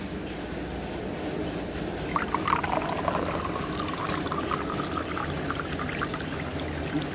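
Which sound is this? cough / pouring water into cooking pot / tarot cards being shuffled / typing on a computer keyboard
pouring water into cooking pot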